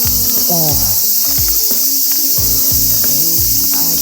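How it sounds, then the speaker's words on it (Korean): A loud, constant high drone of cicadas fills the air at a valley campsite, buzzing nonstop, with lower rhythmic thumping and clatter underneath. "매미 소리"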